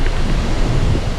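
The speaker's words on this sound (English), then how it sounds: "You got nice big waves" Big ocean waves surge at Blacksmith Beach, a steady, loud, broadband roar of surf that fills the whole moment without any breaks or talking over it.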